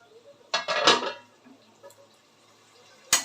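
Metal lid lifted off a pot of simmering chana masala on the stove, a short clanking clatter of metal against metal, a quiet pause with light bumps, then another sharp clink near the end.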